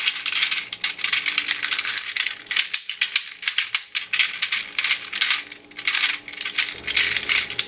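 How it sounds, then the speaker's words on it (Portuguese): Rapid clicking and rattling of a 4-layer Leesho twisty puzzle being scrambled, a busy, continuous stream of plastic clacks up close with brief pauses. "vamos logo embaralhar o lixo para iniciar a solve comentada"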